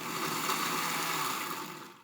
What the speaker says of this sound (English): I'm going to put the top on my blender, and I'm going to combine these ingredients